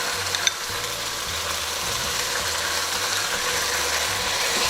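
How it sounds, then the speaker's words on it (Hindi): Gosht meat roasting in ghee in a pan gives a steady, dense sizzle that holds evenly throughout at close range, with one brief tap near the start. "अच्छी तरह इसकी भुनाई कर लेते हैं।"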